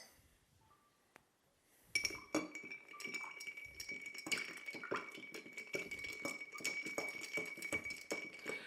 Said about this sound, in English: we're going to stir it up to chill it down